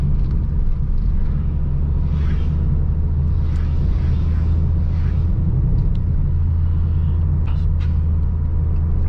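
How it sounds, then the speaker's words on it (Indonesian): A Honda Mobilio engine revs in third gear at 3000 RPM, a steady low rumble heard from inside the car, loud and continuous with no voices. "Mesin meraung naik ke gigi 3,"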